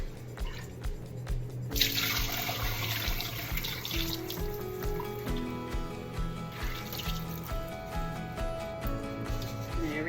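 Homemade broth pours from a scoop-and-strain strainer into a small batter bowl, trickling and splashing in uneven bursts with scattered drips. Clicks and handling noises mix in close by.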